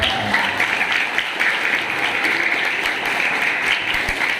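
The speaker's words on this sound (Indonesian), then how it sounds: "Tepuk tangan buat anak-anak hebat." An audience at a children's motivation event gives the children sustained applause, a dense, steady crowd of clapping hands at even loudness from start to finish.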